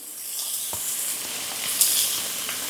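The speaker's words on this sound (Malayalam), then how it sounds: "നമ്മൾ കട്ട് ചെയ്ത് വെച്ച നമ്മുടെ സവാളയാണ് ഇട്ട് കൊടുക്കേണ്ടത്." Chopped onions sizzle in a pan for a Kerala-style mushroom kuruma, with a steady bright frying hiss, a single soft knock early on and a brief louder spatter burst midway.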